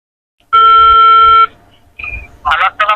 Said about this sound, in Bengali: রিং রিং হচ্ছে।